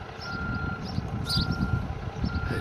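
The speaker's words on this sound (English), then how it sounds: "He left his beeper going." Reversing beeper on a construction machine at a river regulator works, a continuous tone droning at a distance over rumbling engine noise and outdoor wind.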